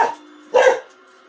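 A dog barks twice in quick succession indoors, close and loud, the second bark stronger, then quiet.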